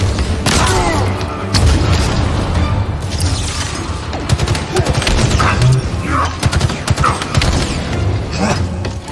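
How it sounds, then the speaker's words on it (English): Grenade blast and chaotic combat in a Mythic Quest zombie video game, with booms, rapid gunfire and clanking mechanisms forming a loud, dense, continuous wall of noise. "Grenade away!"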